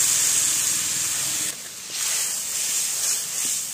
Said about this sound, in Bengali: এবার আমি সেই ডুমুর সিদ্ধর জলটা ওটা দিয়ে দিচ্ছি